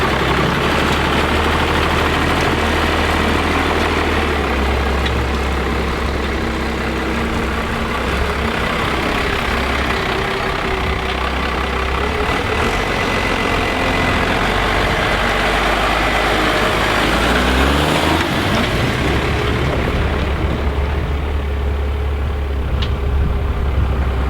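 A Cummins-powered truck engine runs steadily after a gearbox repair, a loud, close, continuous low rumble with a slight shift in tone midway as the truck moves forward and back.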